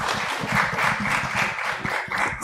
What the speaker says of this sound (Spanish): un aplauso a mis actores.